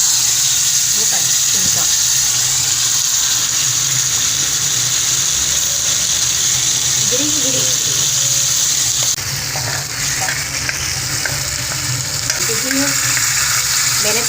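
Griddle heating over an open fire in a home kitchen, giving a steady loud sizzle and hiss, with someone talking intermittently over it.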